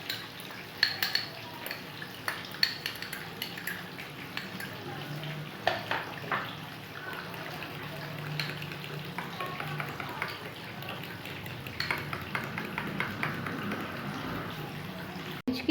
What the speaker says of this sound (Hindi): लिया है केचप और मेयोनीज। अब हम इसे मिक्स कर लेंगे।